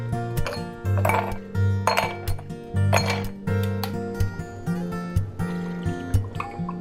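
Glasses clink together in a toast over mezcal cocktails, giving several bright, ringing taps spread across the moment, with a tonal musical background underneath.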